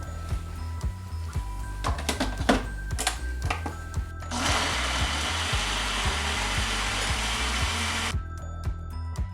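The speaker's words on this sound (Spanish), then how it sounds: "todos estos ingredientes los vamos a licuar muy bien hasta obtener una especie de salsa" Marinade ingredients for adobada pork are blended into a sauce: scattered clatter and knocks give way to a loud, steady, high-pitched whir of a blender that runs for about four seconds and then cuts off abruptly.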